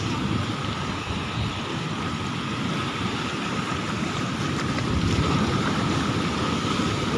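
Storm waves surging onto a sea beach in Paschim Medinipur, a steady loud roar of surf and wind noise that swells slightly toward the end, with no voices.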